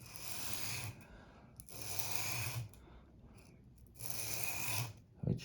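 A meat grinder knife is sharpened by hand, rubbed in long raspy back-and-forth strokes over an abrasive surface, three close grinding passes separated by short pauses.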